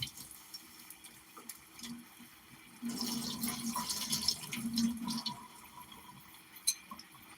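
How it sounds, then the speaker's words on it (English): Water runs and splashes while a cooking pot is rinsed at a kitchen sink, a steady mid-level pour lasting a few seconds with faint drips before and after. "Let's rinse this out."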